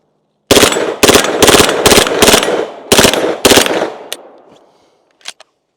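Rapid bursts of automatic gunfire from an HK SP5K PDW fitted with a Super Safety. Several loud, close strings of shots are broken by brief pauses, and the last burst fades into outdoor echo with a couple of faint clicks.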